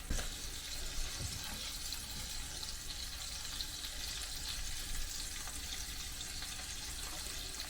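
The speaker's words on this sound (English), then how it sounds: "Just browning these things up, get them nice brown outer edge on it" Meatballs browning in a pan for a classic Italian recipe, a steady broadband sizzle of frying that holds constant throughout with small crackles and pops, with no talking.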